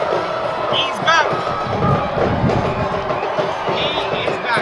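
A stadium crowd roars and cheers after a goal at a Philippine professional football match between Dynamic Herbs Cebu FC and One Taguig FC, a sustained loud swell of shouting and whoops with some speech in it.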